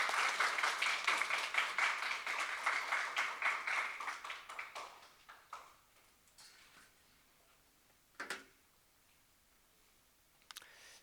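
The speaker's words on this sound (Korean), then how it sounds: "박수로 한번 환영하겠습니다" A church congregation at a Korean Presbyterian anniversary service in Sydney claps to welcome the pastor, rhythmic and fairly strong at first, then tapering off by about five seconds, followed by quiet room tone with a couple of brief knocks.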